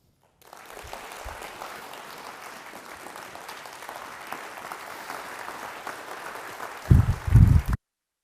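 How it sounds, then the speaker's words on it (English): Sustained audience applause at a conference after a researcher's talk, a broad even wash of clapping that swells slightly and holds for several seconds before a few louder thumps near the end, then stops abruptly. "I know we just clapped"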